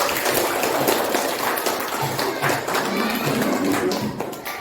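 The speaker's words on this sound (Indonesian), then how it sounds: "tepuk tangan dulu" Classroom students clapping their hands together after a countdown, a steady dense patter of many claps lasting several seconds, with faint voices mixed in.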